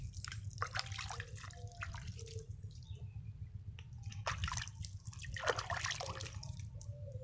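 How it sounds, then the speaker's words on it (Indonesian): Water is poured and splashed over a banana corm seedling soaking in an insecticide and fungicide solution, a steady close trickle and patter with small drips, no voices. "Ini bisa sama disiram-siram gini mulai"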